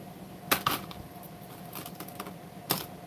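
Keys clack on a computer keyboard in a few quick clusters of sharp clicks, close and fairly quiet, with pauses between bursts and no talk.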